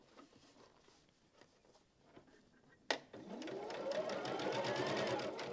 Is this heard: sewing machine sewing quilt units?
yes